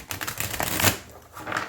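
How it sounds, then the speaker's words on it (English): A new tarot deck being shuffled by hand gives quick papery riffles and flutters, a dense burst of rapid card clicks peaking midway, close up and alone. "So they don't rifle shuffle really well, but I still can rifle shuffle them."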